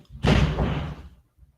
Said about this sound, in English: Someone just body slammed into a door.